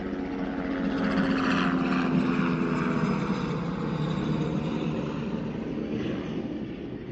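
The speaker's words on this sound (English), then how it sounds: "yeah, it's just a helicopter going by." A loud, steady rotor and engine drone of a helicopter passing overhead, holding strong throughout before easing slightly at the end.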